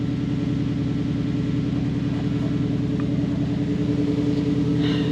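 A Toyota 1UZ non-VVTi V8 engine idling steadily, a close, even low rumble with a constant drone and no change in pace throughout.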